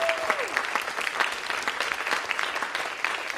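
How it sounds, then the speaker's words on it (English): Applause from a conference audience at an opening plenary in Chicago, a moderately loud, steady patter of many hands clapping throughout, with a brief tone near the start. "One more round of applause, please."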